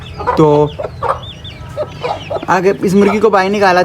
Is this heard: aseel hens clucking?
yes